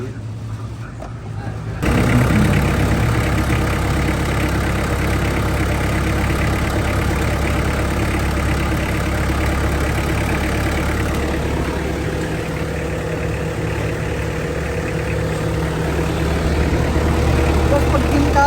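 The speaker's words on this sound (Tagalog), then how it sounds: "ang lakas ng kalampag ng makina" Mitsubishi L300 van engine running loud and steady with a low, rattling drone and strong low rumble, starting abruptly after a brief quieter opening; people talk over it.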